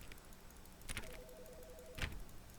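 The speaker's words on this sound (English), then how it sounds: "The phone is ringing, by the way." A telephone rings in the video game The Stanley Parable, a faint warbling trill lasting about a second, set between two soft clicks.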